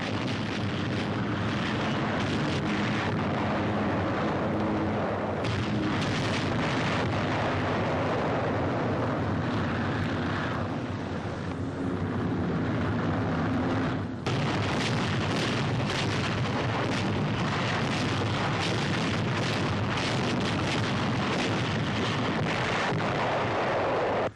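Allied saturation bombing during the invasion of Europe in the Second World War produces a dense, loud, continuous roar of blasts and deep rumble with no pause.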